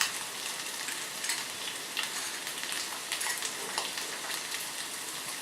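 Ginger-garlic paste sizzles steadily in a hot pan for a Kerala-style beef dish, a dense crackling hiss with occasional scraping taps from stirring, close and continuous, with no talking.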